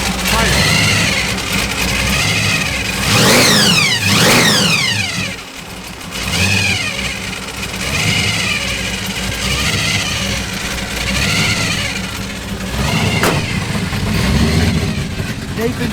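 A 1969 Chevrolet Camaro Z28 Pro Street's V8 revs hard and loud up close, its pitch surging and falling in repeated blips, with a brief dip before climbing again.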